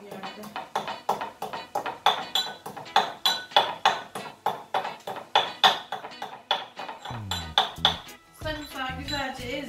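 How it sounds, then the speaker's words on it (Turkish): Garlic and salt being crushed in a mortar, a steady run of sharp, ringing pestle strikes about two per second, close and loud, then a brief stretch of voice near the end. "Sarımsağı güzelce ezdim."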